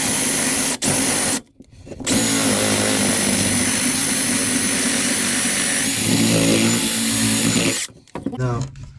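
A power drill bores into a wooden door to cut the pocket for a mortice sashlock. It makes a loud continuous whirring grind with two brief stops and a restart, and no one speaks.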